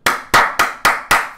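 Five sharp claps land at an even, moderate pace, each one loud and close and fading quickly, with no voices among them.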